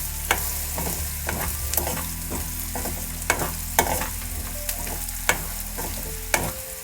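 Onions frying in a pan for upma, a low steady sizzle broken by repeated sharp clicks and scrapes of a spoon stirring, close and moderately quiet, no talk.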